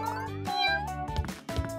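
A cartoon cat meows over bright background music, with two short mews sounding close together near the end.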